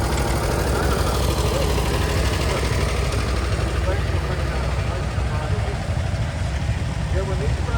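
An antique tractor engine runs steadily in an agricultural machinery association parade, a continuous low mechanical chug and idle rumble held close and loud throughout, with people talking over it.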